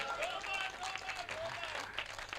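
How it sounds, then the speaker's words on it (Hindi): An audience at a Hindi poetry recital claps in a scattered, moderate burst, heard somewhat distant and fairly quiet, with a few voices calling out over the clapping. "ताली बजा दो एक बार"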